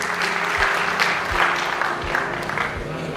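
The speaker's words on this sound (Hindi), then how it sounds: "जोरदार तालियों से हम स्वागत करें।" Steady applause from a crowd, dense clapping that holds at an even level for a few seconds, with faint music or tones underneath.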